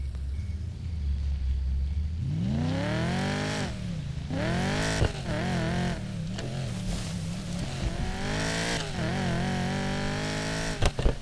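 Ford Mustang GT with a 5.0 engine in the racing game Need for Speed Payback, on stock tuning: a low idle that swells into loud repeated revs and accelerations with gear changes, close and continuous, and no talk.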